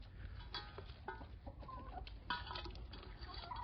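A lone chicken clucks repeatedly nearby on a warm autumn evening, with short irregular clucks and squawks over a low rumble of wind or handling noise.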